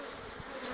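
Honeybees in a hive that has just lost its queen hum in a dense, continuous buzz, close and steady with no voices.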